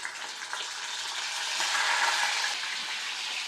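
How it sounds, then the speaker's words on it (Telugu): Pieces of bitter gourd fry in hot oil in a pot, giving a steady, moderately loud bubbling hiss that swells slightly midway and continues unbroken, with no voices. "ఇదిగోండి, ఇట్లా వేయించేసేయాలి కాసేపు."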